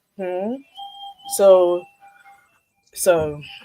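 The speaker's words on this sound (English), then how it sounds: "That was my doorbell." An electronic doorbell chimes in a home during a talk show, playing a few clear tonal notes that alternate with spoken voices.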